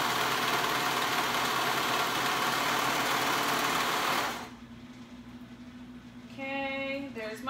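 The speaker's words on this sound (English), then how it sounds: "Now I'm sewing the other shoulder." A serger runs loud and steady, sewing a shoulder seam on a top for about four seconds, then stops to a quieter hum before a brief high whirring restart near the end.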